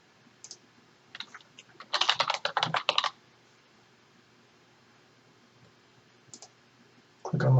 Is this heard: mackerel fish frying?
no